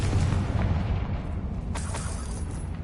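Confringo fire spell exploding in Hogwarts Legacy, a rumbling, sustained blast with crackling bursts near the end, loud and close with no voices over it.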